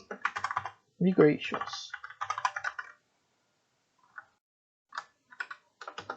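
Computer keyboard being typed on in short bursts of rapid clicking, with gaps between, while someone speaks Portuguese over parts of it.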